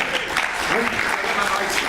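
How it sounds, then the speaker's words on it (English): A crowd applauds over a short stretch, with a voice speaking through the clapping. "Ladies and gentlemen, please, huge round of applause."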